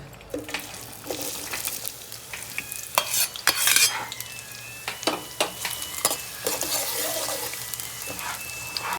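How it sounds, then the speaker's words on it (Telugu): Onions frying in oil in a kadai for mutton liver curry, a steady close sizzle broken by repeated loud scraping stirs of a spoon against the pan, with no talking. "చూడండి, ఉల్లిగడ్డ చక్కగా ఎర్రలాగా ఎట్లా వేగింది"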